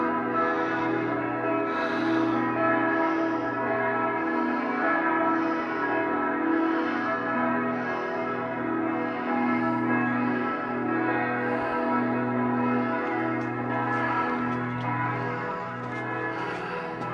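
Several church bells in Graz, Austria chime together at a quarter past the hour, a steady overlapping pattern of rhythmic strikes that rings continuously through the street, fairly loud and without talk.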